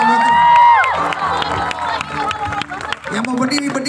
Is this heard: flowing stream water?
no